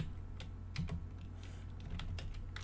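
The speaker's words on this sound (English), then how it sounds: "you simply just type im.save" Faint, scattered keystrokes on a computer keyboard, a few soft clicks over a steady low electrical hum, recorded while entering Python code.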